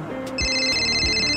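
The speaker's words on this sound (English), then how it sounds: "You saw my phone is ringing." An electronic phone ringtone begins and keeps ringing with steady high tones, fairly close, over low background sounds and a couple of soft thumps.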